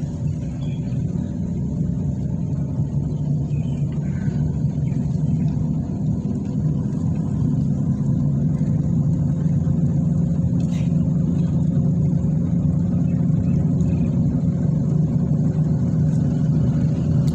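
A car engine in a driving lesson hums with a steady low rumble while the car accelerates gently, continuous and even throughout with no sharp changes.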